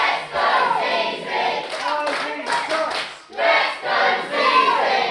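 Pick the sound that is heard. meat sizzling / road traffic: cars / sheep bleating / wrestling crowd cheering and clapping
wrestling crowd cheering and clapping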